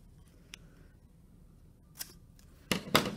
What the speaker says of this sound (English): Now I can cut right along that line, stopping about halfway down.